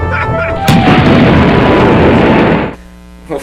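A loud synthetic explosion sound effect bursts with a sharp crack and a sustained roaring rumble for about two seconds, then cuts off abruptly into low hum, with a small thump just after.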